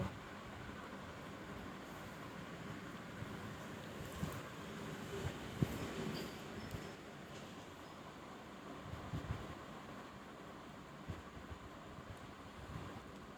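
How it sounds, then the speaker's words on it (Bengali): A sewing machine stitches a ribbon along a line of fabric for a pajama hem design, giving a steady, continuous mechanical whirr that runs unbroken for the whole stretch with no talking. "ফিতার উপর দিয়ে আমি এইভাবে পুরো লাইন সেলাই করে নেব"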